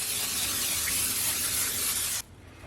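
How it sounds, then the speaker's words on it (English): Cooking oil sprays from a can onto a sheet pan in a steady, close hiss lasting about two seconds, then cuts off abruptly into quiet. "I give the sheet pan a nice spray."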